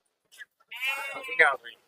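A sheep bleats once, a long, wavering close call, at a goat market, with brief bits of voice around it.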